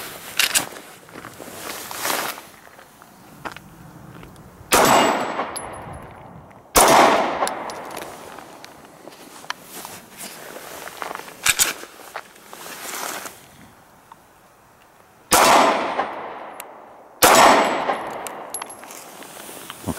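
Walther PPQ M2 pistol fired outdoors during a felt recoil test, four sharp loud shots spaced several seconds apart, each with a short echoing tail, between quieter handling clicks and footsteps.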